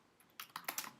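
Keys tapped on a computer keyboard while writing Swift code, a short burst of several quick clicks that grow a little louder toward the end, close and alone in a quiet room.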